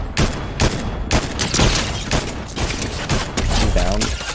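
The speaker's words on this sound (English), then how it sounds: "Buddy shooting at me like a bully." Rapid bursts of Fortnite gunfire crackle through a match, repeated sharp shots in quick uneven clusters, loud and close, with a player talking over them.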